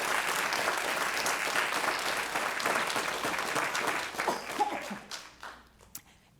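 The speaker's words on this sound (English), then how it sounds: "If we could give them a round of applause" Round of applause from an audience at a mental health awareness event, a steady dense patter of many hands that thins out and fades into a few last claps.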